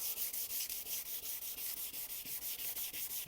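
Wet sanding of a car headlight lens during restoration: a steady rhythmic scrubbing, about fifteen even back-and-forth strokes, close and loud with no voices.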